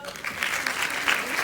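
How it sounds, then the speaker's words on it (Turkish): A seminar audience claps together in a room, a brief burst of steady, moderately loud applause that continues throughout. "Alkışlayalım."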